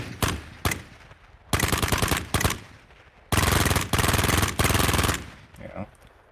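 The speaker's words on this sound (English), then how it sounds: "lets me like audition them in an actual game audio gunfire system" Video game gunfire sound effects blast in loud automatic bursts, from single sharp shots to long rapid volleys with brief gaps between them, close and dominant.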